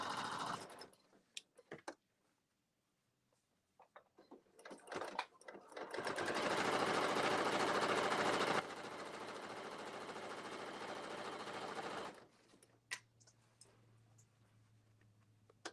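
A sewing machine stitching a fabric seam: after a few scattered clicks and handling noises, a steady fast whirring run of several seconds, then a lighter continuous hum before stopping.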